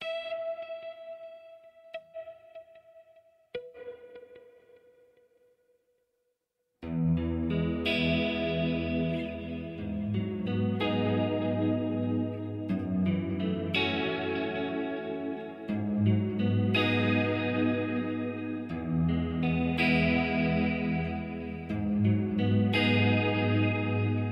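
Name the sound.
guitar with stereo delay effect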